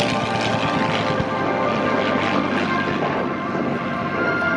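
A P-51 Mustang fighter powered by a Packard-built Merlin engine flies past, giving a loud, sustained propeller and piston-engine roar. The roar fills the whole stretch with a slight rise and fall and no talking.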